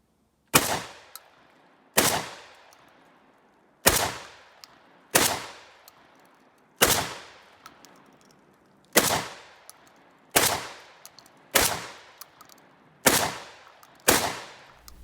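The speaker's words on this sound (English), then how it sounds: "That video was 10 rounds of buckshot" A VEPR shotgun fires ten rounds of buckshot, sharp loud blasts spaced roughly one to two seconds apart, each followed by a brief decaying echo, with no talking.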